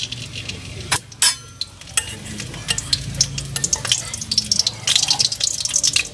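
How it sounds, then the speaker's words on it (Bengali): Bay leaves sizzling in mustard oil in a wok, with a steady frying hiss, clattering stirs and scrapes against the pan, and no talk. "এই কড়ার ভরে তেল দিয়ে দিচ্ছি, সরিষার তেল, তেজপাতা,"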